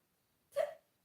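A single short hiccup, sharp and fairly close, standing alone against near silence.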